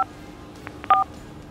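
Telephone keypad buttons pressed during a call, giving a few short DTMF tones, one brief beep then a slightly longer two-tone press, close and clear over faint line hiss.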